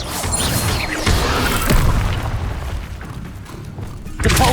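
Confringo and Expelliarmus spell blasts go off in Hogwarts Legacy as loud booming bursts and crashes, a dense continuous rumble with impact thuds.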